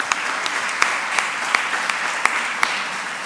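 Conference audience claps for a speaker at a One Health congress session, a steady roomful of applause with a few sharper individual claps standing out, continuing evenly to the end.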